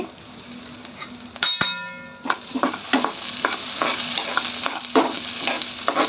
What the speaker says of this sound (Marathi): त्यात आपण गाजरही बारीक कट करून घेतले तेही मी थोडंसं लासला याच्यावरती अगदी हलकंसं भाजून घेते